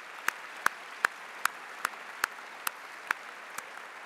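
Sparse, evenly spaced single claps ring out at a school assembly welcoming visiting exchange students and their teacher to Nashville, about nine sharp hand claps spread over a few seconds, faint and somewhat distant against a quiet room.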